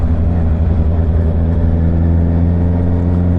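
A motorcycle engine hums steadily while riding through Ortigas in the morning, a constant close low drone with a smooth even pitch throughout and no talk.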